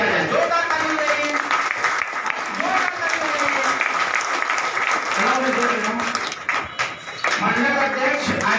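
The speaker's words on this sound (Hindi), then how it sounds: "जोरदार ताली बजाइए" At a political party gathering welcoming a party official, a crowd claps loudly and continuously while voices talk and call out over it, with a brief dip in the applause near the end.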